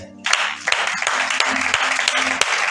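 Church congregation applauding together at a worship service, a dense continuous wash of clapping that swells in after a brief quiet start and holds steady and loud, with a few sharper claps poking through.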